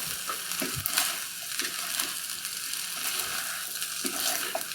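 Tex-Mex chicken fried rice sizzles steadily in a hot pan while a utensil stirs it and scrapes the bottom, with scattered close scraping knocks over a continuous frying hiss and no talking.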